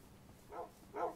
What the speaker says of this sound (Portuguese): Esse cachorro tudo entrando dentro.